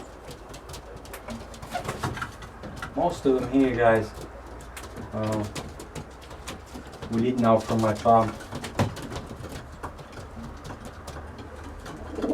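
Tame pigeons in a farm loft coo in repeated bursts, loud and close, while someone talks over and between the calls.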